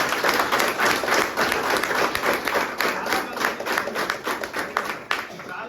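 Loud clapping from an audience at a direct selling and network marketing meeting, a crowd of hands beating in a brisk, somewhat uneven rhythm, close and strong throughout the few seconds.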